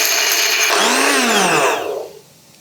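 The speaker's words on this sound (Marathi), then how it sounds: "पाण्याचा अजिबात वापर न करता मिक्सरला हे फिरवून घ्यायचं" A mixer grinder runs on sesame seeds, ginger, garlic and coriander with no water, a loud high whine whose pitch sweeps up and down before the motor cuts out and spins down to quiet.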